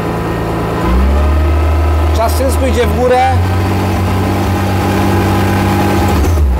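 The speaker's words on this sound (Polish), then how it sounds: "Ja dodaję gazu." A BMW M3 E46 with its S54B32 straight-six on individual throttle bodies with drive-by-wire rises from idle into a steady, louder hum as throttle is applied, close and continuous, while someone speaks over it.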